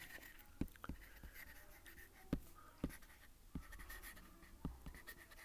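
Chalk or marker taps and scratches across a classroom board during a Class 6 maths lesson on the distributive law, sounding as faint, sparse strokes with a few sharper knocks against quiet room tone.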